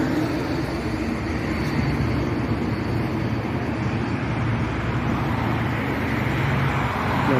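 A steady wash of road traffic at the Gedebage interchange in Indonesia, near a high-speed rail construction site, with vehicles droning and rumbling continuously at a distance and no voices.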